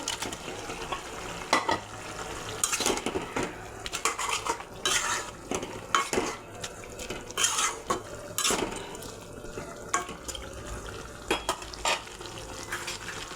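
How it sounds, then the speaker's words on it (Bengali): Pieces of fried rohu fish head added to cooked potatoes in a pan and stirred with a metal spoon: repeated sharp clinks and scrapes of utensil on pan at an irregular pace over a soft background sizzle, close and alone without talk. "এখন ভেজে রাখা মাছের মাথা দিয়ে দেব।"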